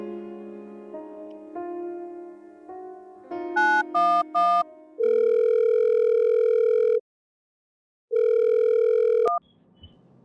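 A phone call being placed: a melodic keypad tone sequence, a few sharp beeps, then two long steady ringback tones separated by a pause, clear and close with no talk.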